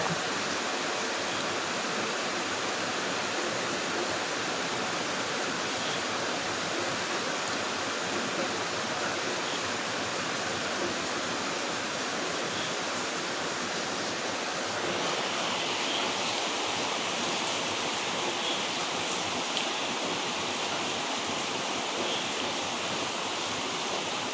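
Heavy rain pours in a dense, unbroken roar, steady and enveloping for the whole stretch with no voices.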